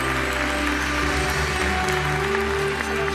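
Audience applause at a UEFA awards and draw ceremony, greeting the final nominees for the Women's Best Player in Europe award; steady, dense clapping from a large hall crowd fills the whole stretch at an even level over a low musical hum.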